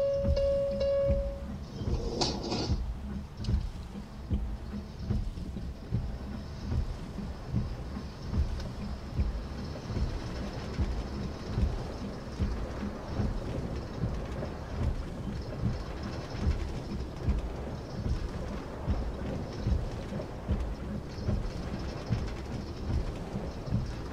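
A metro train at Kosmos Church station closes its doors with a brief chime and thump, then pulls away. The rolling rumble and rhythmic clickety-clack grow steady and continue for the rest of the stretch, close and fairly loud, with no speech.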